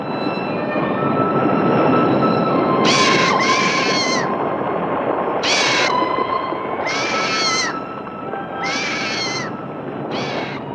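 A shrill call repeats about six times in short rising bursts over a steady rumbling background, each cry sharp and fairly close.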